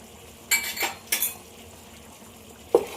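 A spoon stirs garam masala, coriander powder and biryani masala into a cooking pot for Rayalaseema-style kushka, giving a few distinct scraping clinks against the metal over a faint background.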